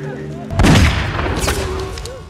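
A single gunshot fired by a woman in a forest, a loud booming crack with a short rumbling tail, over background talk and tense music.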